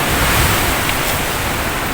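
Sea waves washing onto the shore at a seashore, heard as a steady, close, continuous roar of surf with no voices.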